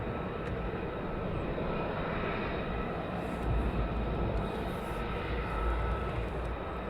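Military jets taxi at RAF Lakenheath, a steady, broad engine roar and whine rumbling continuously at a distance, with low-end surges as they move closer.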